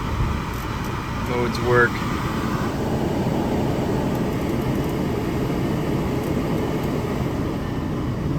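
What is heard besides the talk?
car HVAC blower fan running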